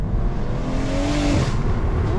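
A stage 4 big-turbo BMW M140i pulls hard in third gear, its engine droning loud and close from inside the cabin as the pitch rises steadily, then drops off near the end of the run.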